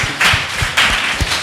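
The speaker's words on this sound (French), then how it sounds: "Donc sous vos applaudissements, s'il vous plaît." Applause at a panel discussion on culture and traditional values, heard as a short, loud burst of close, uneven claps.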